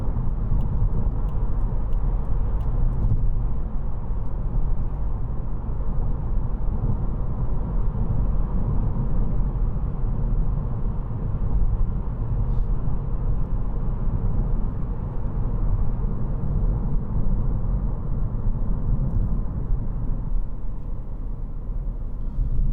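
Interior of a 2016 Volvo V40 Cross Country 2.0 D2 diesel on the move, a steady low engine drone and road rumble throughout with faint cabin clicks.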